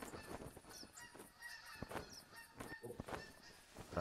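A flock of three geese in theHunter hunting game honks repeatedly as the birds fly in, with overlapping calls at moderate distance and no talking.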